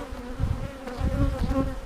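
A full honey bee colony in Florida buzzing during a hive inspection, a close, dense drone that swells and fades slightly while no one speaks.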